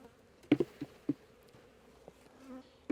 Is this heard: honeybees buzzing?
yes